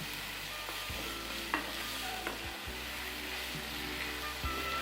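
Chicken and onions sauté in a pan for Dragon Chicken, with a steady hiss of frying and a few soft utensil scrapes and stirs scattered through, close and continuous, with no talking.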